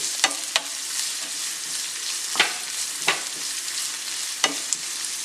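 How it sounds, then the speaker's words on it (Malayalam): Two small onions sautéing in a pan for a pork curry, a steady soft sizzle broken by several sharp clicks of a spoon stirring against the pan, close and with no voices. "നമുക്ക് സവാള വഴറ്റിയെടുക്കാം"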